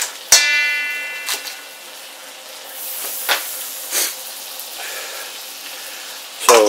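Butter burning in a hot pan while bone marrow is fried, giving a steady soft sizzle and hiss broken by a few sharp crackles and pops, close by, with no talking.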